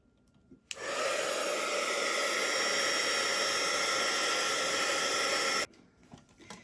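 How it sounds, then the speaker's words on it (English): A heat gun blows over a watercolor painting as a loud, steady roaring hiss that cuts in sharply, holds even for about five seconds, then stops abruptly. Quiet room sound is left before and after. "this time I'm going to use my heat gun, and you can watch my watercolor dry"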